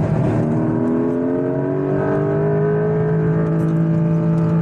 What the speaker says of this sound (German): Guckt euch mal die Bodenwellen hier jetzt an, wie der Porsche hier einfach drüber hinwegfährt